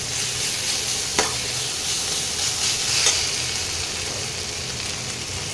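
Spice masala with Kashmiri chili powder frying in a pan, a loud continuous sizzle with stirring and a couple of sharp scrapes or taps.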